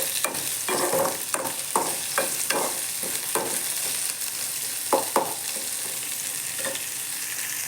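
Onions and curry leaves frying in a pan for mushroom gravy, a constant bright sizzle broken by repeated scraping strokes of a spoon stirring, close and loud with no voices.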